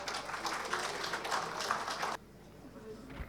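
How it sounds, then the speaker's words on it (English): Audience applause for a speaker being welcomed to the stage at a 2021 fintech forum, a dense, steady patter of clapping that cuts off abruptly after about two seconds into a quiet room. "A big round of applause for sir."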